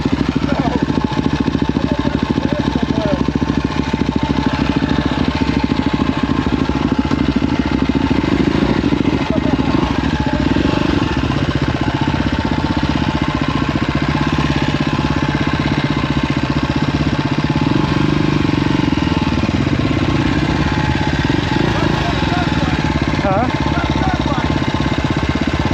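A dirt bike ridden through the streets of Philadelphia, its engine droning loud and close for the whole stretch, with occasional voices mixed in.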